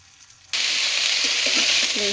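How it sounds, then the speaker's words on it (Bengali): Mixed vegetable bhaji of bean seeds, carrot, cabbage, cauliflower, potato and eggplant hitting hot oil: a sudden loud sizzle bursts in after a quiet moment and hisses steadily, with light stirring knocks. "সিমের বিচি, তারপর হচ্ছে গাজর, পাতাকপি, ফুলকপি, আলু, বেগুন দিয়ে একটা ভাজি করবো।"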